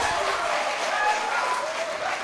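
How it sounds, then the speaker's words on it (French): An audience at a live music performance applauds steadily, a continuous wash of clapping from a crowd with a voice faintly over it. "Applaudissez pour vous-même."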